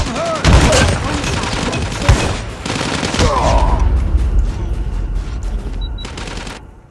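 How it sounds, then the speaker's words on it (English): Shotgun blasts ring out in the Call of Duty Mobile video game, loud booming shots with other gunfire clustered early and again mid-clip, followed by ongoing game sounds and a voice speaking. "That is a very strong shotgun"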